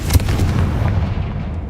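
A heavy magical blast from the Confringo spell in Hogwarts Legacy: a sharp boom up front, then a rumbling low roar that fades away over about two seconds.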